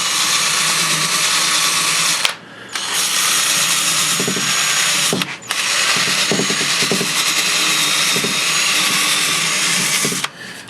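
A loud, steady whine of a power tool with a wire wheel cleaning rusty motor parts and bearings from a vintage car, running continuously at close range with a few brief dips as the tool is lifted off.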